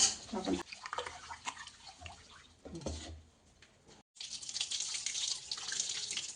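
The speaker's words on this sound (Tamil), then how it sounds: "தண்ணி ஊற்றி நல்லா கழுவிக்கணும். ஒரு 2-3 தடவை நல்லா கழுவிக்கோங்க." Urad dal and raw rice being washed in water at home for a homemade ulunthan soru, with splashing and running-water sounds broken by brief pauses and a short gap, fairly faint.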